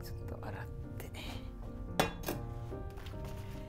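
A metal pot clinks and knocks while being washed, with a few sharp clanks over a steady background and a voice speaking nearby.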